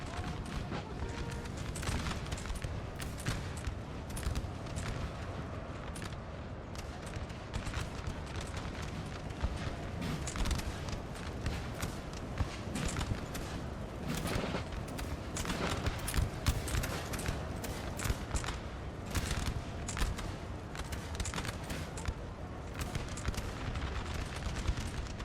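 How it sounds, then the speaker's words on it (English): Massed musket gunfire cutting down grenadiers in Napoleon Total War, a long, dense crackle of overlapping volleys and scattered shots with distant booms, steady and unbroken throughout. "Oh, these poor grenadiers just getting shot up."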